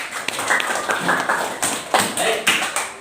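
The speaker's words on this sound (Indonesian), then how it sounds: "Tepuk tangan untuk Ananda Rania. Mana tepuk tangannya?" Fourth-grade students applaud a classmate, Ananda Rania, in an Islamic religious studies classroom, with scattered, uneven claps rising in several bursts over a teacher's voice.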